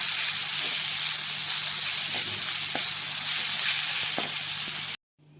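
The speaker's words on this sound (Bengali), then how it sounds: "গ্রেট করা আলুটাকেও আমি ভেজে নেব" Grated potato frying in hot oil in a pan, a steady close sizzle and hiss with a few faint crackles, no talk, ending abruptly in near silence.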